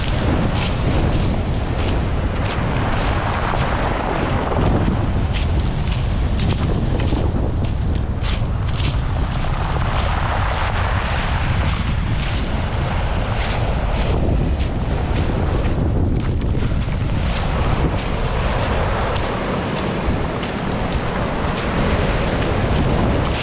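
Strong wind and crashing sea waves where a river mouth meets the sea beside a campsite make a constant loud roar, with heavy gusts buffeting the microphone throughout and no voices.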